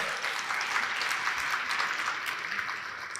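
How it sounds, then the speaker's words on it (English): An audience at a talk giving a round of applause, a steady wash of many hands clapping at moderate volume that continues evenly for the whole stretch without voices over it. "That was the best golf clap."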